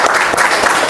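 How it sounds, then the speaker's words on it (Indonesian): A vocational school class bursts into applause, a short loud burst of close clapping filling the whole moment. "Ya, tepuk tangan."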